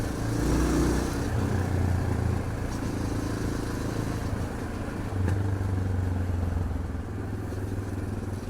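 A motorcycle engine rumbles steadily throughout, close and fairly loud, with low throbbing and slight variations as the rider cruises on an early beginner ride.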